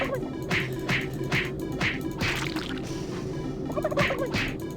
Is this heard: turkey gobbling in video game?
yes